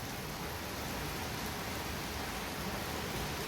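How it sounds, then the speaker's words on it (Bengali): Heavy rain pouring outside, heard as a steady, soft, even hiss with no breaks, faint and distant, as if through walls. "বাইরে মুষলধারে বৃষ্টি হচ্ছে"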